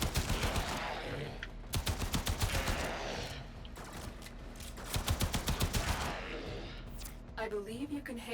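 Repeated bursts of primary-weapon gunfire in the video game Warframe, rapid rhythmic volleys in several clusters with game sounds between, loud and close.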